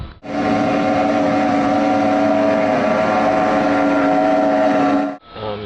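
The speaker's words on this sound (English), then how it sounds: "10 cylinders of gasoline power, billet aluminum construction, 625 horsepower, and weighs less than 800 pounds." A speedboat with a 625 horsepower, 10-cylinder gasoline engine of billet aluminum construction roars loudly and steadily at close range for about five seconds, then cuts off briefly before resuming.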